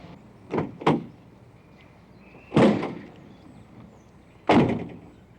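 Front hood of a 1973 car being worked open: two quick metallic clunks close together, then two heavier thuds spaced a couple of seconds apart, close and fairly loud over quiet room tone.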